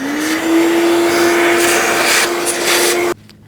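A vacuum cleaner sucks dirt out of the air filter box of a 2004-08 Nissan Maxima, a loud steady motor whine that holds for about three seconds and then cuts off abruptly.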